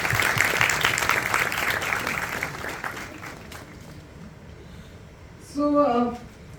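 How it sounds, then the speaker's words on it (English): A room of people at a Union Budget 2023-24 session gives a round of applause that starts loud and full, then thins out and fades over several seconds, with a brief voice rising near the end. "I think a round of applause for all of you"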